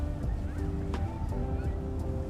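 A commercial fishing boat's engine in Fishing: North Atlantic running at about half speed, a low steady rumble with sea and wind wash and faint tonal hums, continuous and fairly close.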